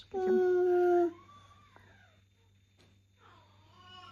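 A kitten gives a loud, high meow close by, followed by softer, drawn-out mewing cries with quiet gaps between.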